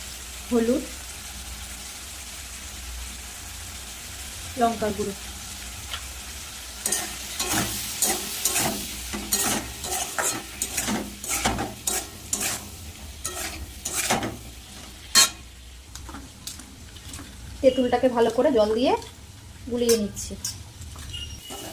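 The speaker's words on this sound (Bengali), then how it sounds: "এবার ভেজে নেবো তার সাথে চিংড়ি মাছগুলো দিয়ে দেবো নুন" Prawns fry in a pan with potato and kathi kochu, giving soft intermittent sizzling and sharp stirring clatters of a utensil against the pan, with a voice talking in between.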